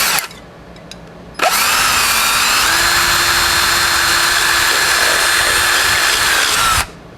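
A power drill with a 1/8 inch bit bores through a metal can, a loud steady whine with a slight pitch rise partway through, starting abruptly after a quiet moment and stopping near the end.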